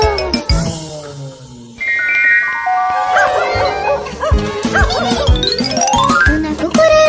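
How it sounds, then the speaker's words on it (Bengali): A dog barks in short, sharp bursts while chasing another dog, over bright, jingly music that runs throughout. "ঘেউ ঘেউ শব্দ করে কুকুরকে তাড়া করছিল"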